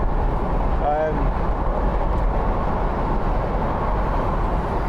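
Steady broadband road and engine drone from a 2014 BMW Z4 sDrive28i cruising on a motorway at 70 mph around 1800 rpm, heard from inside the cabin, with tyre roar and a brief faint tonal whine early on.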